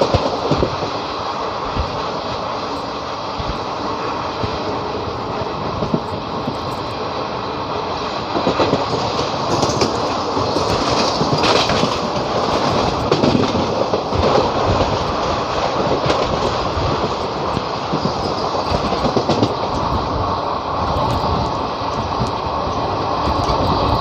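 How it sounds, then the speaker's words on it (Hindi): Mumbai–Shirdi Vande Bharat express train passing close by, a loud, steady rush of wheels and rail noise with rumbling clickety-clack that holds strong throughout, alone without talk. "ये हमारी मुंबई शिरडी वंदे भारत है।"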